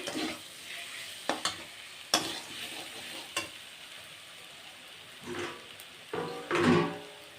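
Spice paste with chilli, coriander, cumin and ginger frying for a rohu fish curry, a soft sizzle broken by several sharp scrapes and stirring knocks of a spoon against the pan, close by, with no talk.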